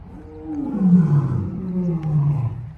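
Big cat roaring on a farm, one long, deep, throaty roar that rises and trails off over nearly three seconds, loud and close with no voices.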